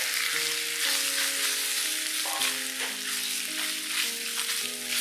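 Pork belly sizzles and spits in hot oil in a pan as a 5-spice stir fry begins: a dense, continuous frying hiss under gentle background music, with no talking.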